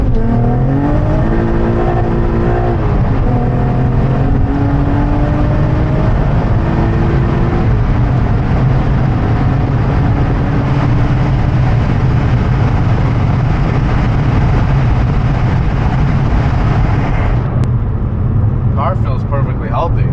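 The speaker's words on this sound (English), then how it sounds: "And then I do a first gear pull." A tuned Acura TL Type S pulling hard through first gear, its engine note climbing in rising harmonics over a loud, constant in-cabin roar that lasts about twenty seconds before easing off, with some clicks near the end.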